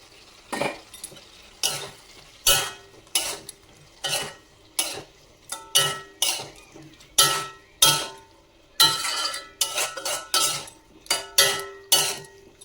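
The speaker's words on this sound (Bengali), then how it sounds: "এটা দিয়ে দেবো পটল আলু ভাজাটা।" Fried pointed gourd and potato pieces tipped into a pan of cooked-down spiced oil for a vegetarian Kolkata dish, followed by repeated close scraping and stirring strokes of a spoon against the pan, steady and rhythmic, with no talking.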